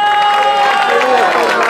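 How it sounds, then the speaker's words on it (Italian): Spectators applaud and cheer for third-placed slalom racing driver Vincenzo Romeo at the Santo Stefano slalom, a dense, steady wash of clapping and crowd noise with a sustained tone over it. "so già che ci sarà l'applauso"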